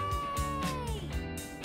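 A cartoon cat gives a couple of drawn-out, sliding meows, loud and close, with no talking.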